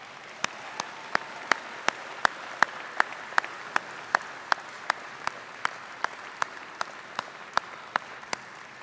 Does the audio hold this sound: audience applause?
yes